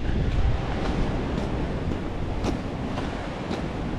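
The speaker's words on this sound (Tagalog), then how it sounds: "Lakas ang hangin dito sa Hummingbird." Strong wind gusts outdoors at Hummingbird, a loud, continuous roaring rush buffeting the microphone with no voices.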